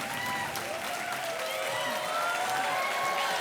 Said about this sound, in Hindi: और तालियां बजती रहनी चाहिए हमारे मेहमानों के लिए